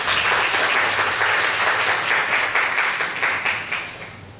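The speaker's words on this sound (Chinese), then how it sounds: "那导演已经在现场，我们就掌声欢迎导演" A film-screening audience applauding to welcome the director, with dense, sustained clapping from a crowd filling the room for several seconds and easing slightly toward the end.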